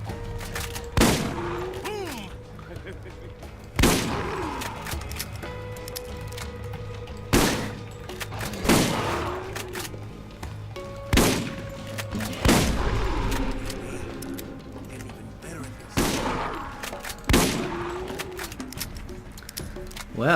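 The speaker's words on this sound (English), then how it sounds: "this shotgun has really paid off" Booming shotgun blasts from the first-person shooter Borderlands GOTY Enhanced, played in VR, fire one at a time every two to three seconds. Each loud crack carries a short rumbling tail over steady game ambience.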